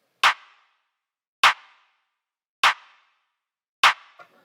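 Trap-beat clap with a boosted transient and light saturation, struck four times at a steady pace, each hit crisp, punchy and loud with a brief tail.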